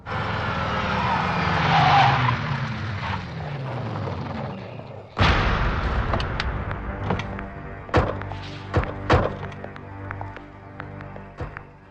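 A car brakes hard and its tires skid in a long screech, followed by a loud thump and a series of sharp knocks and bangs, with a faint voice in the background.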